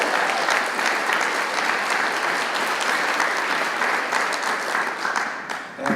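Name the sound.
audience applause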